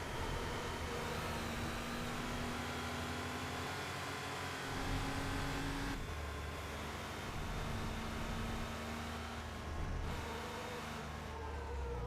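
A Porsche 911 in a Need for Speed classic 911 Cup race accelerates steadily, its engine droning under broadband road and wind noise, with rapid gear shifts around the sixth and tenth seconds.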